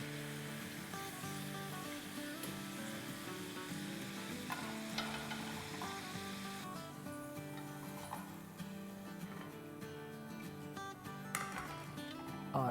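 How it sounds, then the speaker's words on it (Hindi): Half-fried frozen fries frying in a pan of oil for a chicken tikka biryani dish, a dense, continuous crackling sizzle with scattered pops, steady and close. "तो बस इसको बस रियल क्विक थोड़ा सा फ्राई करेंगे तो ये रेडी टू गो हो जाएगी"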